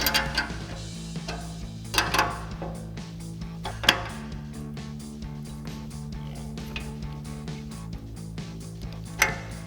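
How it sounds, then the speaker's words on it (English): A 14 millimeter wrench tightens a nut onto a fog light bracket bolt on a truck bumper, with repeated metallic clicks and clanks, several sharper knocks, and a faint ringing metal hum throughout. "Now we can tighten this down using our 14 millimeter wrench."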